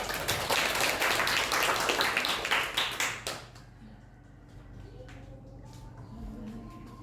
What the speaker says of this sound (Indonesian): Tepuk tangan untuk Mbak Hovifa